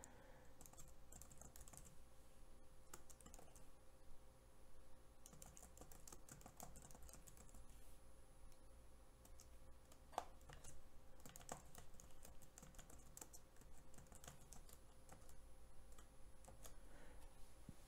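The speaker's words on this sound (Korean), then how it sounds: "도형을 선택한 후 키보드로 텍스트를" Quiet, steady typing on a computer keyboard, a continuous patter of soft key clicks with brief pauses, close by and alone.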